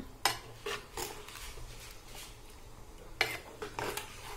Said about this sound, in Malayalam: ഞാനിപ്പോൾ ഈ തേങ്ങ മിക്സ് ഇതിൽ ഇട്ടിട്ടുണ്ട് ഇത് നമുക്ക് നന്നായിട്ട് ഇളക്കി കൊടുക്കണം